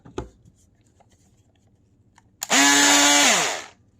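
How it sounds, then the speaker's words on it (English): A Craftsman battery-powered oscillating multi-tool fitted with a blade switches on after a couple of faint knocks, giving a loud, harsh buzzing whine that holds for about a second before winding down. "It's a Craftsman multi-tool."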